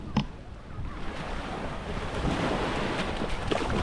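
Sea waves wash onto a beach in Langkawi, Malaysia, a steady broadband surf rush with wind buffeting the microphone and a brief bump near the start, no voices.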